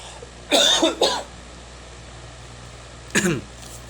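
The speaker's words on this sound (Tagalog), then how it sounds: "pasensya na kayo kung inuubo ako" A person coughs close by, a quick double cough, then a pause of a couple of seconds before one more cough.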